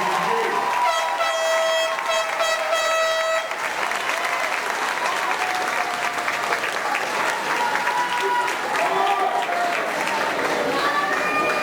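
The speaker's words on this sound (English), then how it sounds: "Let's give a round of applause for our roll call" Sustained applause from an audience at a 2017 Team G promotion ceremony greets a row of names just read, steady dense clapping filling the room with faint tonal sounds and murmur mixed in.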